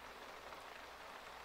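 Steady, even rain falls in The Sims 3, a continuous hiss of drops spread across the whole stretch without a break, moderately quiet and with no voices.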